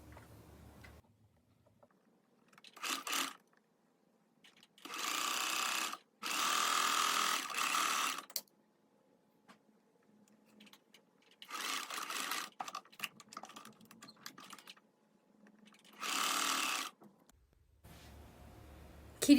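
A sewing machine stitches along the edge of a folded shoulder strap for a slip dress, running in several short bursts of a few seconds each, separated by quiet pauses.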